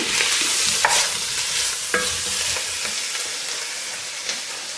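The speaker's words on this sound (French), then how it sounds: "on va tout de suite rajouter le chou" Cabbage tipped into a pot for a white-wine cabbage stew and stirred, with a steady sizzle and bursts of scraping and rustling, close and moderately loud, no speech.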